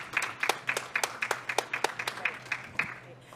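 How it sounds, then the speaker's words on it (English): Clapping for a panel at the close of a forest data and bioeconomy session, a string of sharp, evenly spaced claps from a small group, fairly close and moderately loud, trailing off after about three seconds. "A big round of applause for this stellar panel."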